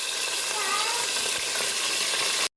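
Chopped onion dropped into hot oil with cumin seeds, frying with a loud, dense, continuous sizzle that cuts off abruptly at the end.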